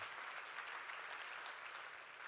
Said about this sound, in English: Give him some applause on that recognition.